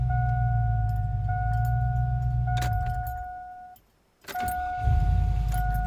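A car engine cranks and runs while jump-started with a Hulkman Alpha 85S 2000A jump starter: a steady close idle, a brief drop to near silence with a jingle of keys, then the engine catching and running again.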